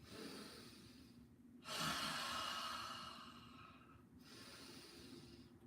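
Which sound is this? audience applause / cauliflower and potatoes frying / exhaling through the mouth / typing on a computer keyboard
exhaling through the mouth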